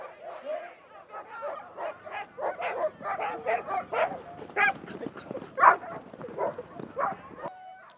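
Sled dogs lined up for a mass start in the relay at a dryland sled dog championship in Thetford Forest, England, barking and yipping excitedly in a dense, overlapping chorus, fairly distant and steady throughout.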